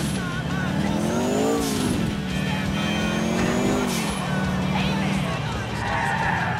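Sultan RS car driving in GTA IV: a steady engine drone that rises and falls with throttle changes, close and fairly loud, with a brief tire squeal, running under a voice.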